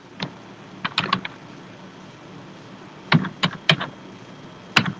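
Keys clacking on a computer keyboard as names are typed into an Excel sheet, arriving in short irregular bursts of a few strokes with pauses between, close and moderately loud.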